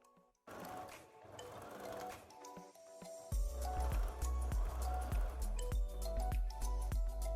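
A sewing machine runs on a skirt side seam after a mechanical lead-in, loud and steady for the last four seconds with a faint rapid stitching rhythm and small clicks. No one talks.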